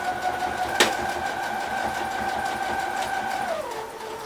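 A sewing machine stitches a thick denim jeans hem with a steady, close mechanical whir and a brief sharp click near the start, its pitch dropping as it slows at the end, with no talking.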